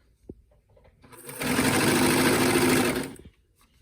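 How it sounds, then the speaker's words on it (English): A serger sewing machine finishing a t-shirt sleeve seam: a short, close, loud whirring run of about two seconds that starts and stops cleanly after a faint click. "And then you're gonna serge right over it, and they should be lined up perfect."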